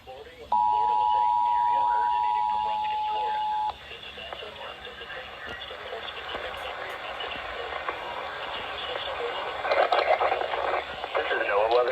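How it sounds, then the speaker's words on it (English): A NOAA Weather Radio emergency alert test signal in the Florida area: a steady loud attention tone of about three seconds, then a broadcast announcer's voice speaking over the radio channel. "The preceding signal was a test of the public warning and alarm for transmitters in the Florida listening area"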